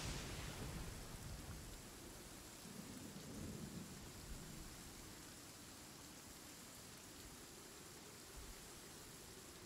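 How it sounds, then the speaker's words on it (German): Thunder and heavy rain during a storm in the video game Genshin Impact, with a deep rumbling roll near the start fading into a steady, faint hiss of rainfall. "Weil da schon Blitze auf dem Boden auftauchen."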